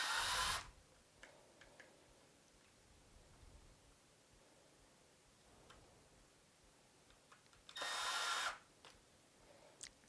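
A power drill drives screws into wood while mounting dog leash hooks, two short loud whirring bursts near the start and again later, with faint ticks and rustling in the quiet gaps between.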